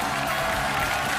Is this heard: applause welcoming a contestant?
yes